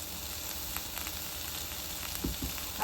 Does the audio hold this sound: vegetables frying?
yes